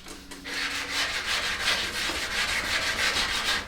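A hand rubs down the painted finish of a motorcycle fuel tank in a garage, making a close, continuous, steady rasping scrub with an even back-and-forth rhythm throughout.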